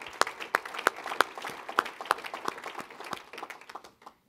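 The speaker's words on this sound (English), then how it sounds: "I would like to sort of give applause to all of the participants in the meeting" Applause from a meeting audience: a brief round of individual claps, spaced and fairly close, thinning out and stopping near the end.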